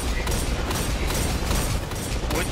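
Heavy gunfire during a Destiny 2 Nightfall activity: a dense, continuous wash of shots and impacts filling the whole clip at steady loudness, with no clear pauses.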